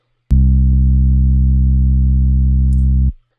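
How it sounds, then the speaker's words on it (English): Looped fretless bass sample holding one smooth, sustained low note at a constant level for about three seconds after a sharp onset, then stopping cleanly. "I added some loop points to this fretless bass, so it just continues playing."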